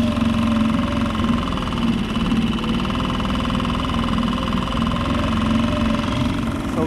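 A fishing boat's engine under throttle on Long Island Sound, running at about 3 mph: a loud, steady, buzzing drone with a fixed pitch that holds without change from start to finish.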